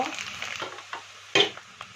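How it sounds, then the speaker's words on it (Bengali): Rice frying with spices in a pan gives a soft, steady sizzle, broken by a few brief stirring scrapes and one louder clatter near the middle. "তোমরা মনে হয় শুনতেও পাচ্ছ ভিডিওতে এই চালটা ফুটছে"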